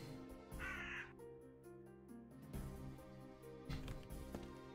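A crow caws in the Super Trench Attack video game, one harsh, nasal call near the one-second mark and a few more rasping caws later, all set over layered game music and effects.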